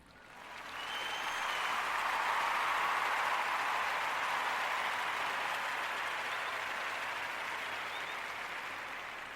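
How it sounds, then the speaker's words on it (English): Sustained audience applause at a hall of fame induction ceremony, a broad steady roar of clapping that swells in quickly, holds loud for several seconds and tapers slightly toward the end, with no talking over it. "Let's give them a round of applause."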